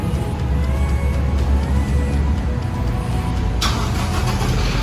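A Toyota Hilux Revo pickup engine, started by remote start from a smart key, rumbles steadily at close range, a low continuous drone, with a brief hiss rising near the end.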